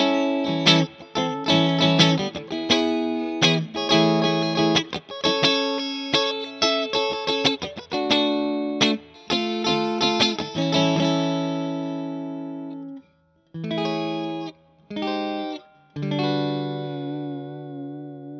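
Funky electric guitar chords from a PRS DGT SE on a single-coil pickup setting, played in short, rhythmic stabs with a bright, clean tone, ending in a few separated strummed chords and a sustained ring.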